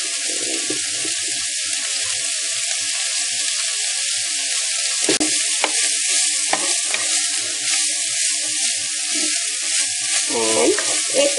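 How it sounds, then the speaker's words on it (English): Chickpeas stir-fried with lots of onions in hot oil, Sri Lankan style, sizzle steadily and loudly in the pan, broken by a few sharper scrapes and clinks of a utensil stirring, with no voice heard. "just chickpeas stir-fried with lots of onions"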